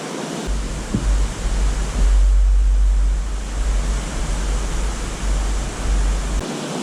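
Indian Flats Falls on the Middle Prong Trail, a loud continuous roar of rushing water with low wind rumble against the microphone, no voices.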